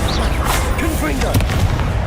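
The Confringo blasting spell in Hogwarts Legacy goes off as dense, booming bursts of magical explosion, loud and continuous, with a voice talking under the blasts.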